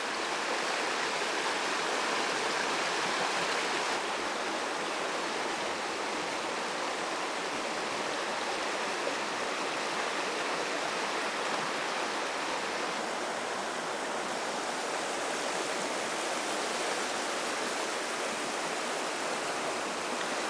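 The Yuba River in Northern California flows steadily through the whole stretch, a constant broadband rush of moving water with no talk and no breaks.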